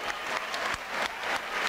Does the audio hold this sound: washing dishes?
no